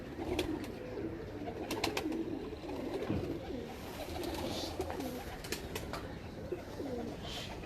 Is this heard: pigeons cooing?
yes